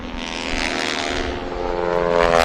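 A radial piston engine propeller airplane flies past at an air show, its air-cooled engine giving a loud, steady droning roar with a throbbing rumble that holds close and constant throughout.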